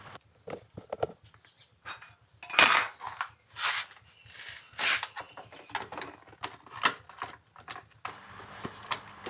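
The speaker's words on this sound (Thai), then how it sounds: "ขันน็อตเบอร์สิบของสเตอร์ข้างหน้านะครับ" Metal wrench clicking and clinking as it tightens the 10 mm front sprocket nut on a Honda Wave 110i motorcycle, a run of close, sharp ratcheting taps and scrapes with brief louder clanks, no voices.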